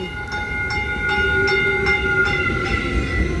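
Caltrain passenger train arriving at a station, a loud steady rumble with rhythmic wheel clicks and a high tonal whine, close by and continuous throughout with no talking.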